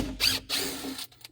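Cordless power drill driving 1-inch fine thread screws into a 1/2-inch cabinet panel, two close whirring bursts of the motor under load, then a short click and tail-off.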